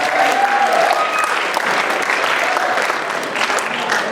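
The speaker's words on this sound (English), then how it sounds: "Give her a round of applause." A school audience at a Martha's Vineyard presentation breaks into steady, dense applause that stays loud and close from start to finish.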